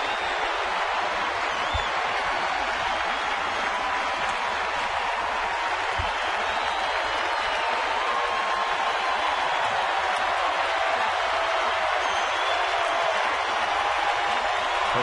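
A San Francisco Giants home crowd at a baseball stadium roars steadily as the pitcher works toward a last strike. The dense cheering and applause hold at an even level throughout with no breaks.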